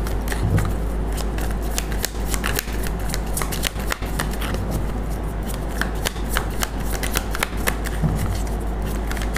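Tarot cards riffled and shuffled continuously at close range, a dense run of crisp papery flicks and snaps with occasional louder card slaps, steady throughout over a low constant hum.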